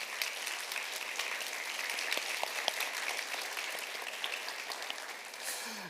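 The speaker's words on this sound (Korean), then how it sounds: "저희들 뜨거운 박수로 한번 환영하도록 하겠습니다." Church congregation applauding to welcome visiting elders during a Sunday service, heard as steady, dense clapping from a large crowd that holds for several seconds before easing off.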